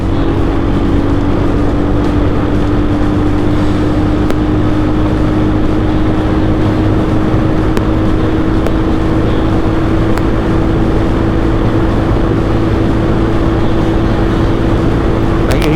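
A best-selling Royal Enfield motorcycle accelerates in fourth gear from 80 km/h. Its engine drones steadily and loudly with a tone that rises slowly, under heavy rushing wind.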